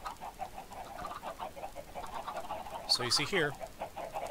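Soft, rhythmic clucking from Minecraft chickens in a redstone automatic chicken cooking farm runs quietly throughout, with a brief louder burst of clucks near the end as someone speaks over it.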